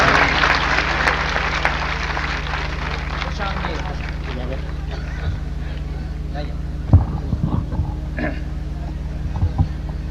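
A mushaira audience in Bhadrak, Odisha, in 2002 welcomes poet Iftikhar Imam Siddiqui with a burst of clapping that fades over the first few seconds. After that, a steady electrical hum remains, broken by a few scattered knocks.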